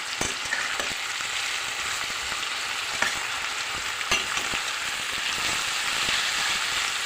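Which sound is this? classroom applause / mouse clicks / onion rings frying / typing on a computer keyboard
onion rings frying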